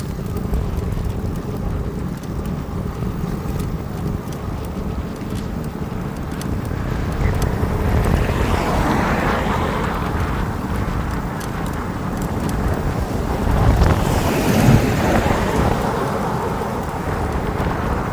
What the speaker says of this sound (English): wind is in our face at 25